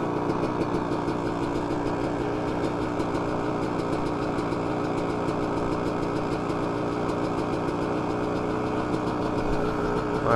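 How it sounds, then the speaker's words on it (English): A cold dirt bike engine idles steadily nearby, a loud continuous mid-pitched putter with a slightly knocking rhythm and no talking. "Let it idle a little bit, it's still cold."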